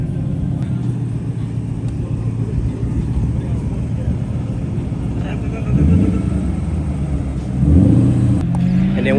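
A Ford Mustang GT500 with a new aftermarket exhaust rumbles at a steady idle, then barks through two short, deep revs near the end. People talk over the engine.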